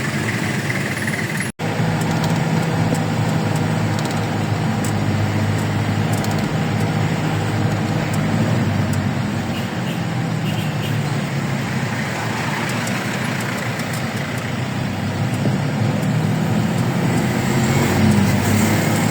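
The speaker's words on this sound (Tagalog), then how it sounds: "ang aga ng traffic" Early morning road traffic on MacArthur Highway in Valenzuela: a dense, continuous roar of car and truck engines with idling rumble, steady and fairly loud, no voices.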